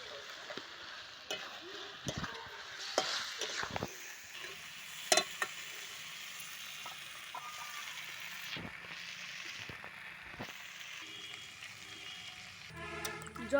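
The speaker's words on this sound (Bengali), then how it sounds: "প্রায় কষানো হয়ে এসছে, আর কষাতে হবে।" Curry with potatoes sautés in a pan, giving a steady background sizzle broken by repeated scraping stirs and occasional clacks of a utensil against the pan.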